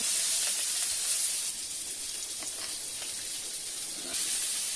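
Onions sizzling in a hot kadai (wok), a loud, steady, close hiss of frying that runs through the whole stretch with no talk over it.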